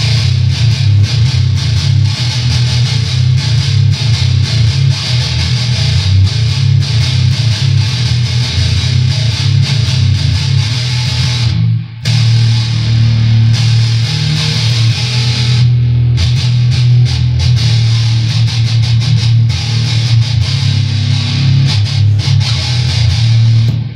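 A single string played through an MXR effects pedal rings out as one loud, sustained, droning tone with a full low body, holding steady apart from a brief dropout midway, with no other sounds around it.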